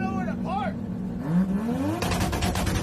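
A Mazda RX-7 with a two-step exhaust revs hard, the engine tone rising and then breaking into crackly popping bursts near the end, mixed with crowd noise and a voice talking.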